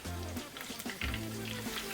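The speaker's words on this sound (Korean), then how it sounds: "기름이 파바박 막 튈까봐 엄청 긴장하면서 고기를 집어 넣었는데 고기를 튀긴 건 처음이었거든요" Pork frying in hot oil, a steady crackling sizzle heard close up, continuous over a low humming background.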